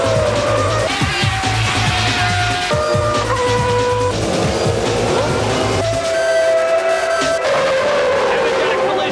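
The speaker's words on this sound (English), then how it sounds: "And at the front, Damon Hill spins" Formula 1 car spinning during a race, 1995 Australian Grand Prix, with tire squeal and screaming high-revving engine tones shifting pitch under continuous commentary.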